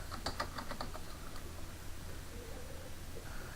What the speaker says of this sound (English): So in the search box I'm going to type Flash.